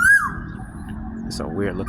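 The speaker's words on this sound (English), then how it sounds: "I haven't never heard that bird call before." A sharp, high whistled call from an unfamiliar bird in Benjakitti Park opens briefly, with a few more chirpy notes later over a steady low rumble of background noise.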